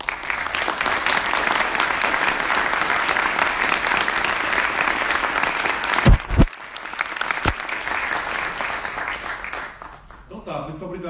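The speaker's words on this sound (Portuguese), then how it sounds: "essa salva de palmas já encerrou como resultado" A debate audience applauding, steady dense clapping from a large crowd for about six seconds, then a few loud thumps and a tapering tail as the applause dies away.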